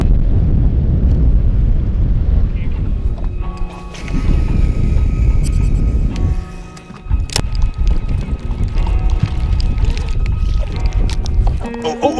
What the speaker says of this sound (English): Front's rolling in. She's getting a bit dicey.